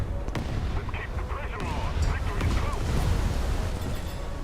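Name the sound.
naval guns firing in a naval warfare video game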